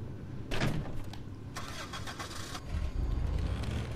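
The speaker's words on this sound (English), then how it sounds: "Let's hop in the truck." A vehicle door clunks and a truck engine cranks and starts in Dead Island, first a sharp thump, then the engine catching and settling into a low, close idle with a slight rev.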